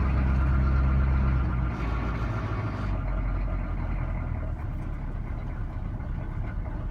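A Chevrolet K10 truck with a 6.2 engine idles just after a cold start, its high idle not working, producing a steady low rumbling drone that stays loud and close throughout with no voices.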